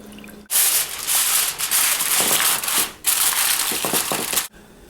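Water poured into a dish of baked apples topped with butter and cinnamon, a steady close splashing rush in two long pours with a brief break between them.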